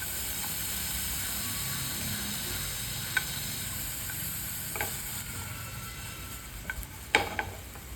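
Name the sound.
tomatoes shallow frying in a pan with mushrooms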